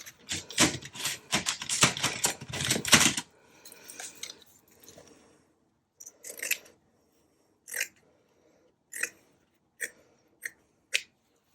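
Scissors cutting scrap paper for a Pride and Prejudice lap book, a dense run of close crisp snips and rustles, then a few sparser separate cuts spaced apart, with no talking.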